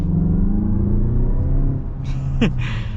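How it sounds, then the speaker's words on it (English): A 2022 Mazda CX-5 Signature Turbo engine drones loudly, then drops off as a short whistling whoosh rises and falls, like a turbo spooling, with a high whine behind it. "Gotta love the turbo noise."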